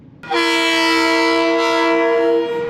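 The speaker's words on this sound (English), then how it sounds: "give a blast on your horn" A train's horn blasts at a level crossing: one loud, sustained harmonic tone lasting over two seconds, close and clear, with no voices.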